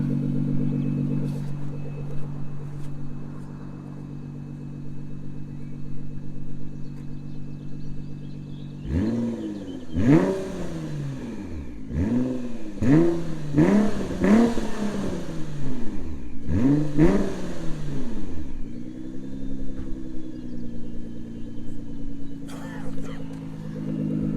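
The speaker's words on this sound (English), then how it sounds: "revving for you. You can listen to that if this doesn't cut out." A 2018 Nissan GT-R coupe with a 3.8-litre twin-turbo V6 idles steadily, then gives about five sharp revs in quick succession before settling back to idle, close and clear.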